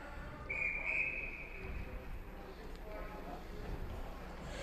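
A referee's whistle at an amateur ice hockey game blows once, a shrill tone of about a second and a half heard at moderate distance over faint arena noise.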